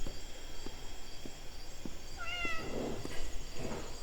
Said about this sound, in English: That cat is so loud.